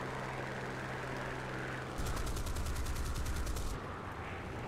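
Rapid machine-gun fire from aircraft in War Thunder rattles in a dense, evenly spaced burst lasting nearly two seconds over a constant engine drone, then cuts off while the drone continues.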